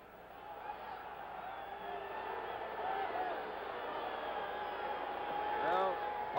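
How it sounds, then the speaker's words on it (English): Partisan stadium crowd at the Oakland Coliseum during a 1972 Jets at Raiders football game, a steady distant roar of many voices filling the air, swelling slightly toward the end. "Partisan crowd here at the Oakland Coliseum"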